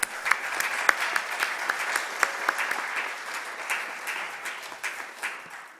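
Applause from a congregation at an Erev Shabbat service: a smallish group claps briskly, with distinct sharp claps standing out near the start, then settles into a softer, steadily thinning patter.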